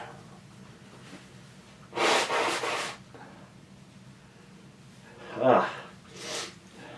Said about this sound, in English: So, I'm going to blow my nose real quick.